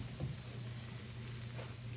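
Steady, crackling sizzle of chicken wings frying in a pan, slightly sticking, continuous and close, with a low hum underneath and no talking.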